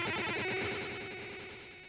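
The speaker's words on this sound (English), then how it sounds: "what you're listening to is a series of tones, played at a very high speed" Commodore 64 cassette tape data plays as a dense, continuous screech of rapid high-speed tones, steady and harsh for the whole stretch, fading slightly toward the end.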